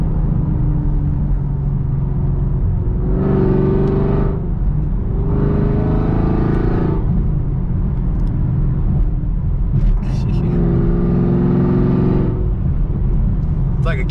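A modded Camaro SS running E85 through a Borla ATAK exhaust surges loudly through several hard acceleration pulls, each rising in pitch before easing off, over constant road rumble.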